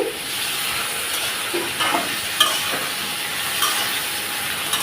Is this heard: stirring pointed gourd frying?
yes